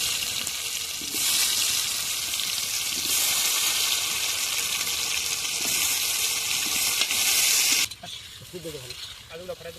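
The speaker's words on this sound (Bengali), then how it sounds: "ডিম ভাজা তেলেই আলুগুলোকে ভেজে নিব।" Potatoes fry in oil left over from frying eggs, a close, steady crackling sizzle that swells slightly and runs for about eight seconds before cutting off to near quiet.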